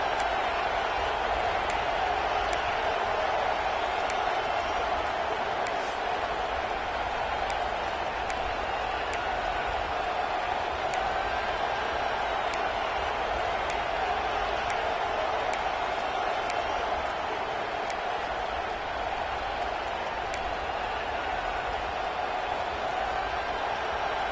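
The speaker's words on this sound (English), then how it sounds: "This crowd trying to show them what it's going to be like all day in this house" Stadium crowd noise at a football game, a steady far-off roar of many voices with faint scattered cheering, continuous and even for the whole stretch.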